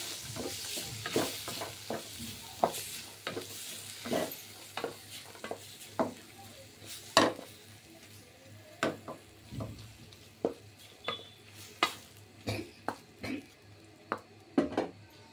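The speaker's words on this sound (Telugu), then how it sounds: "ఆలు బఠానీస్ వేసి ఇలా వేసేస్తామండి" Potatoes and peas for a kurma stirred in a hot pan, with a soft sizzle underneath and repeated sharp scrapes and clinks of a spoon against the pan at an uneven rhythm, close by and with no talking.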